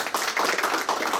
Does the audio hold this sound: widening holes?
no